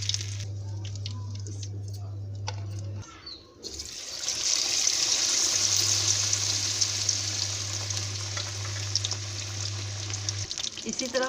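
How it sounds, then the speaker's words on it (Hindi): Masala fish pieces frying in a pan over a low flame, giving a steady close sizzling hiss that starts softly and then swells and holds, with a low hum underneath. "इसी तरह हम मछली फ्राई कर लेंगे"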